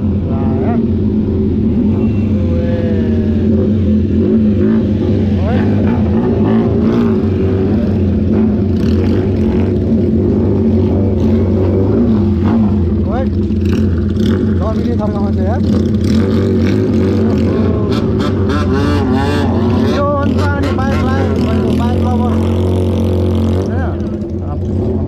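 Kawasaki ZX-6R motorcycle engine idling and revving on a ride through village and forest roads, a loud steady drone with rising and falling revs beneath ongoing talk.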